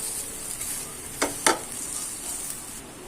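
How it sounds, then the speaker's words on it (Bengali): Tomato mashed potato with mustard oil and chopped coriander is mixed by hand, giving soft, faint mashing and squishing with two brief stirring strokes against a hissy background. "ধনে পাতা কুচি ধনে পাতাটা দিয়ে আমি ভালো করে মিশিয়ে নেব এইভাবে"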